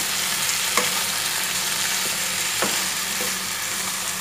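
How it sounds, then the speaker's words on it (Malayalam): Chicken with masala and onions frying in coconut-milk gravy, a dense constant sizzle close up, with a couple of sharper scraping stirs cutting through the crackle. "നന്നായിട്ടൊന്ന് ഇളക്കി കൊടുക്കാം."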